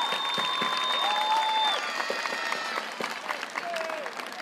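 Graduation audience applauding at a 2023 medical high school commencement, steady crowd clapping with tonal musical or electronic tones running over it for several seconds.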